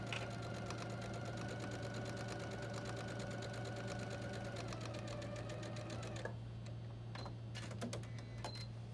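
Sewing machine stitching through fabric at a steady rapid pace for about six seconds, then stopping, leaving a constant low hum and a few faint clicks from handling the thread.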